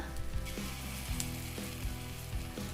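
Green gram paniyaram batter sizzles steadily in a hot pan as it is poured in bit by bit, a close, continuous frying hiss with soft scraping knocks recurring under it.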